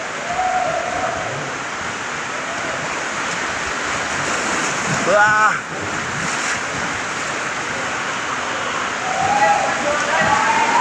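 Fast river rapids rush during a rafting trip at a family fun day, a continuous loud roar of churning water with wind buffeting the microphone, while people shout and talk briefly over it.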